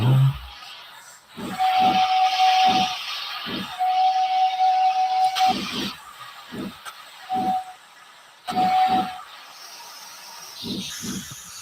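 Steam locomotive whistle in a train video game, sounding as several long and short steady blasts over continuous hissing steam and chuffing, fairly loud and close with no talking.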